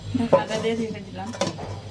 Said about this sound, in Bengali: ঢাকনাটা দিয়ে ঢেকে দিলাম